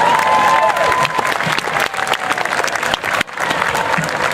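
Loud, steady audience applause at a youth football league opening ceremony, with dense clapping from a large crowd and a faint whistle-like tone early, sustained for several seconds with a brief dip.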